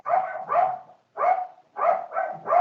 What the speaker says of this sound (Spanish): Un perrito.